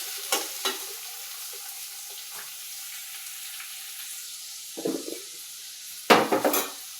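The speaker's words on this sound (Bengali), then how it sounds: "পেঁয়াজটা একটু ভাজা ভাজা হবে।" Chopped onions frying in oil with cumin, dried chilli and bay leaf, a steady low sizzle under several loud clattering stirs of a spoon in the pan, no speech.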